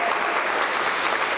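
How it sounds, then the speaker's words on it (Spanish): Congregation applause in a Spanish-language church service, a brief, dense burst of steady clapping filling the room at close range with no voices over it. "Dé el aplauso al Señor."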